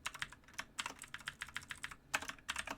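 Close, crisp computer keyboard clatter while code is entered, quick irregular keystrokes in clustered bursts with short gaps, no one talking.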